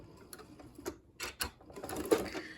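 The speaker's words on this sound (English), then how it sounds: "and then I'm going to back stitch" A sewing machine back stitching a pocket onto a bag gives short bursts of quick, light mechanical stitching clatter, close and faint, with brief pauses between runs.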